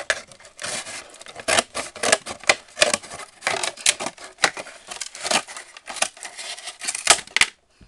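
Material being cut for a homemade toy popcorn truck, a rapid irregular series of crisp snips and cutting crunches up close, with brief pauses between bursts.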